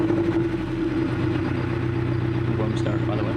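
A 2016 Scion FR-S on its stock exhaust idles after a warm start, giving a steady low hum. Someone talks nearby over the idle.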